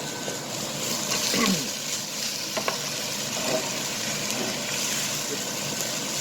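Sausage, about ten ounces, fries in a pan on medium heat with a steady close sizzle and occasional stirring scrapes, and a soft background hum runs underneath.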